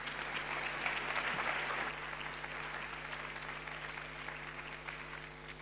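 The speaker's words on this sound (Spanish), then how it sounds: "Un fuerte aplauso." Steady audience applause fills a conference hall, a dense wash of many hands clapping that holds evenly and tapers only slightly over several seconds, with a low hum underneath.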